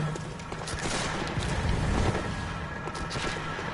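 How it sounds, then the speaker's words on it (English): Dense enemy gunfire in Bloodborne, a continuous rattle of shots and impacts in a busy game mix with no clear separation between individual reports. "Bullets, if you're paying attention to where they're coming, are usually pretty easy to dodge out of the way of."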